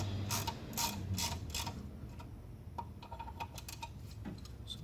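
A bolt is tightened down with a run of quick ratcheting clicks and metallic creaks, fairly faint and close, fading into scattered softer ticks.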